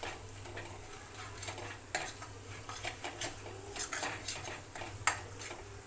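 Ground coriander, cumin, black pepper and red chilli spice mix being stirred in a pan, making steady scraping and clinking strokes with a faint sizzle underneath, close and fairly quiet.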